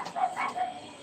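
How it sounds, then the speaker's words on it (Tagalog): A short, close dog bark, a single quick burst with a slight yelp to it. "Sorry po sa aso."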